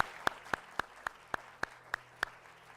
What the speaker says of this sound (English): Let's give them a big round of applause for that great work.